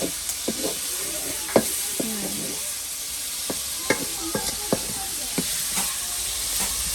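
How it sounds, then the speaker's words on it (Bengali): Meat with spices stir-fried in a hot pan with a little hot water: a steady sizzling hiss throughout, punctuated by scattered sharp scrapes and clacks of a spatula stirring against the pan, close up with no talking. "গরম পানি দিব হালকা করে, তারপর আমি কষাই ফেলবো এটা ভালো করে"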